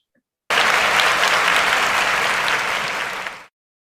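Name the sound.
applause for Ibu Lia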